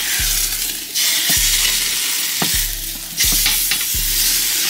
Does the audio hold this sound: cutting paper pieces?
no